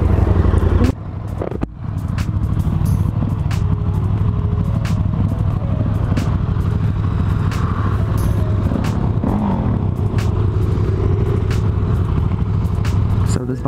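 A 2018 Husqvarna 701 Supermoto single-cylinder engine idling loud and close, a steady throbbing rumble after a brief dip near the start.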